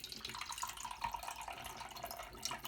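Cold water runs and trickles into a measuring cup in a continuous faint splashing stream, close by, with no voices.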